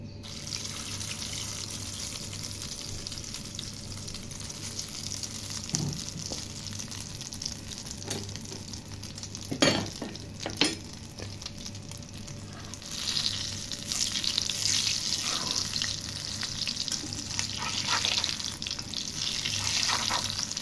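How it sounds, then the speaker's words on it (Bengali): Beaten eggs frying in hot oil give a long, steady crackling sizzle close by, with a few sharp clinks of a utensil partway through and the hiss swelling toward the end. "ডিমগুলো এখন ভেজে নেব তেল গরম হয়ে গেছে"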